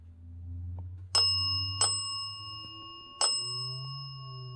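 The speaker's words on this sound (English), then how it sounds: "Anton, can you make the bell go off a couple times for me, please?" A small bell rings three times with sharp, bright strikes, each followed by a long, clear ringing tone over a low background hum.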